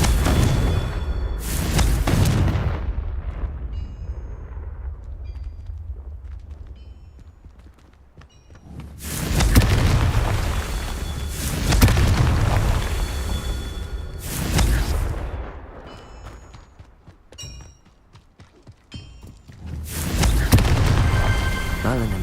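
The Confringo blasting spell goes off repeatedly in Hogwarts Legacy: several loud, booming explosive bursts spaced seconds apart, each with a decaying rumble, and quieter crunching movement sounds between them.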